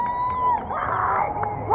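A nearby group cheers and whoops with shrill, excited voices as someone jumps into the water, a short loud burst of celebration.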